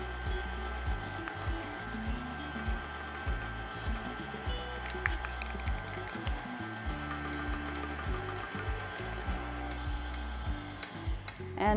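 An electric mixer runs steadily, working flour into a lemon blueberry bread batter with a continuous whirring hum and faint rattling, close and alone, without talk.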